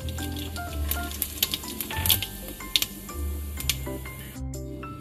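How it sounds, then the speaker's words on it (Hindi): Whole black peppercorns and cloves frying in hot oil for a mutton keema dish, giving a steady crackling sizzle with scattered pops and ticks, close and fairly loud, with no talking. "ये मैं ऑयल के अंदर ऐड कर दूंगी और इसको अब हम फ्राई कर लेंगे"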